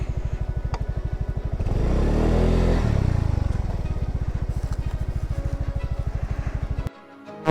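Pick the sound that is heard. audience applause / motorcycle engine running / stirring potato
motorcycle engine running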